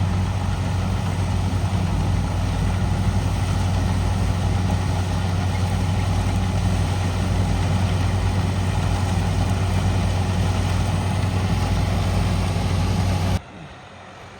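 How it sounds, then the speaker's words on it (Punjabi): A 3630 tractor engine, hooked to a straw-making machine, runs steadily at a low, droning idle, loud and close, with no talking, then cuts off abruptly near the end. "ਟਰੈਕਟਰ ਇੰਨੇ ਜਿਹੇ ਨਹੀਂ ਬਹੁਤ ਸੋਹਣੇ ਚੱਲ ਰਹੇ ਨੇ"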